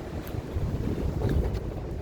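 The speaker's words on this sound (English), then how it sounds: "Yeah, it's pretty windy." Strong gusting wind during a high wind warning buffets the microphone with a loud, steady low roar that swells and eases over a couple of seconds, with no voices.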